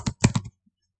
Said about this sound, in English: let's type, start typing it